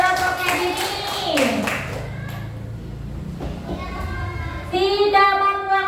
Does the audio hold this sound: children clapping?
yes